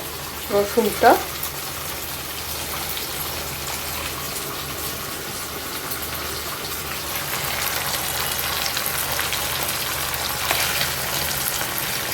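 Garlic and ginger fry in a pan with a loud, continuous close sizzle, opened by a brief clatter of stirring or handling near the start.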